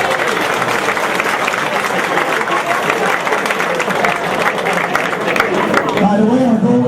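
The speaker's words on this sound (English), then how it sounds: "Give yourself a round of applause." Dense applause from a large dinner banquet audience of about 440 people fills the room loudly and steadily, with a voice surfacing near the end.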